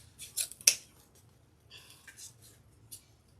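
Scissors snip through several ribbons at once while a deco mesh wreath is made, giving two quick sets of crisp cutting snaps a second apart, quiet and close in a still room.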